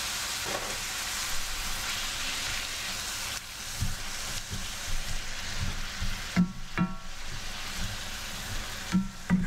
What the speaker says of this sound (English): Those get fried up with the rest of the stuff.